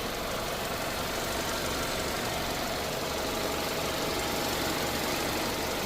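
A Hyundai Avante AD 1.6 GDI petrol engine idles steadily throughout, a continuous low rumble with a faint mechanical knock and broadband hum, no voices.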